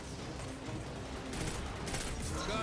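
Redrix pulse rifle firing during a Destiny 2 Gambit match, with rapid overlapping bursts of gunfire mixed with game effects, steady and moderately loud throughout and growing denser in the second half.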